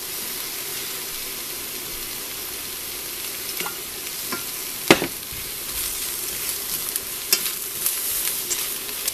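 Soy sauce, pepper and salt being stir-fried and mixed in a pan, a steady loud sizzle with scattered scraping clicks of the utensil against the pan, one sharper clack near the middle.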